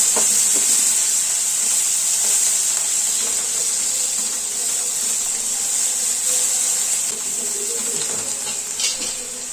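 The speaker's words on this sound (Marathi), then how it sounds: "कांदा छान परतला झालाय" Chopped onion frying in hot oil with browned garlic for a dhaba-style garlic fenugreek dish, giving a steady, even hiss and sizzle close by throughout, with faint stirring and no talk.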